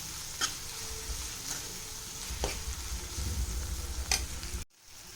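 A spoon stirring masala with turmeric powder in a pan for masala bread, a low sizzle with a few sharp scrapes against the metal, close and fairly quiet, cutting off abruptly near the end.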